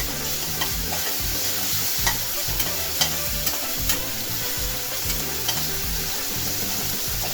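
Shallots and four green chillies fry in hot oil for Coimbatore arisi paruppu sadam, a steady close sizzle broken by rhythmic scraping stirs and soft spatula knocks throughout.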